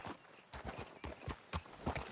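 Horse hooves clip-clop in a steady walking rhythm while riding toward a ranch in the Red Dead Redemption 2 video game, fairly close and clear with no talk over them.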